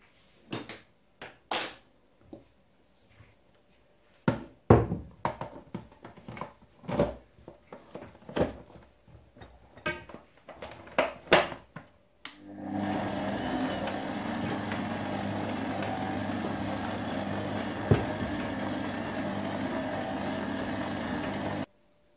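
Clinks and knocks of bowls and utensils give way to a steady, loud drone from a stand mixer kneading whole-wheat bread dough, running continuously for the last ten seconds without talk.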